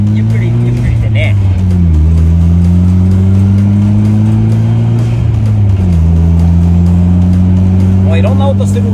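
A Nissan Silvia 240SX rolls slowly down a rough, broken road, its engine drone close and loud, dipping and rising with gear changes, while voices talk over it inside the car.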